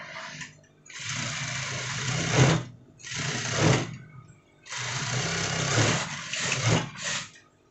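A sewing machine stitches the front lining of an almamater jacket in several bursts of rapid mechanical whirring, each run a few seconds long and separated by brief pauses, close and clear.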